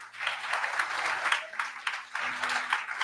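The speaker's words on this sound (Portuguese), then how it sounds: "Dê um aplauso a Jesus" A church congregation applauding, dense clapping that rises and dips in waves across the room, with faint voices mixed in.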